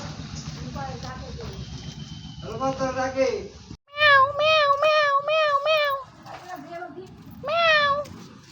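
A cat meows several times in a row, close and clear, in short rising-falling cries, with children's voices talking around it.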